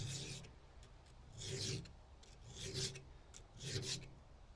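A round file sharpening a Stihl chainsaw chain, four rhythmic rasping strokes about a second apart, close and fairly quiet, with no talking.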